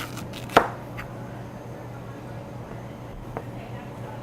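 A knife cuts a vegetable on a cutting board, one sharp thunk followed by a couple of fainter taps, close, over a low steady hum.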